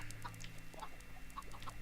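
Chickens cluck faintly in a Minecraft chicken farm where a dispenser pours lava, short scattered blips over a steady low hum of game ambience.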